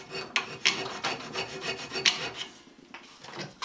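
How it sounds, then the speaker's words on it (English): A steel scraper is drawn repeatedly across a metal file's teeth to clean it, making a series of dry, raspy scraping strokes, close and distinct, about six or seven in quick rhythm. "I've been using this steel file scraper, which works quite well"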